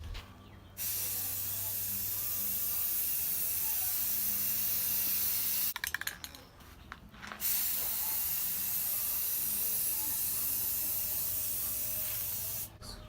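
An aerosol can sprays gloss black and clear coat onto a G35 car grille, delivering long steady hissing bursts from close by, broken by a short pause with a few rattling clicks in the middle.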